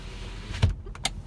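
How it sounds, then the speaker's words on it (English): A car's electric power window motor whirs shut in short, close bursts during an animal safari drive, with a faint rumble of the vehicle behind it. "Close the window."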